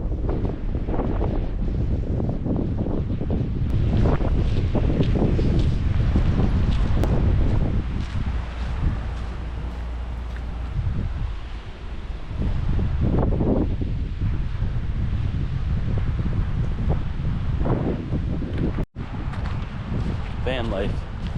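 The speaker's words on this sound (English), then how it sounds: "It's still really windy" Strong wind gusting at a Lake Superior campground on Michigan's Upper Peninsula, loud roaring buffets hitting the microphone continuously with brief lulls, while people speak faintly underneath.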